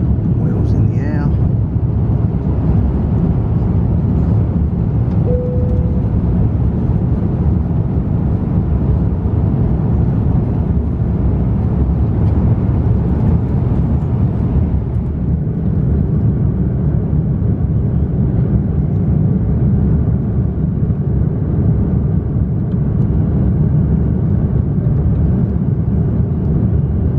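Cabin noise aboard an airliner climbing out of Orlando bound for London Heathrow, a loud constant low engine and airflow roar that holds steady throughout.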